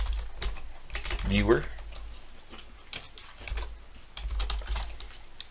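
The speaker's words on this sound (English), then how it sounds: "So you can actually type code here and execute it." Computer keyboard keys clatter in short bursts while Python code is typed into an interactive shell on a Windows PC. A voice talks quietly between and over the keystrokes.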